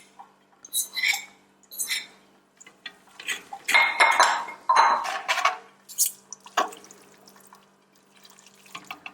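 Carbonara pasta with egg, cheese and pancetta being stirred in a pot, with bursts of utensil clinks and scraping against metal, wet squelching in the middle and quiet gaps between strokes, no voices.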